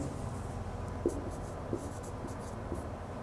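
Marker or chalk writing on a board while a graph is drawn, a few faint strokes and taps over steady room hiss, soft and close, no talk.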